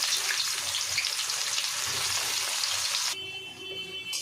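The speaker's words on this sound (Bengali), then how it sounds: "কড়াতে কিছুটা সর্ষের তেল নিয়ে নিয়েছি, তেলটা বেশ গরমও হয়ে গেছে। কিছু পেঁয়াজ বেরেস্তা করে নেব।" Onions frying in hot mustard oil in a kadai, a dense, steady sizzle heard up close that cuts off sharply near the end, leaving a quieter hiss.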